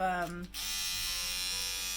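An electric shaver of the beard-trimming type with flip-out edgers, used to cut a boy's hair, hums steadily and loudly up close, briefly changing pitch at the start before settling into a constant buzz.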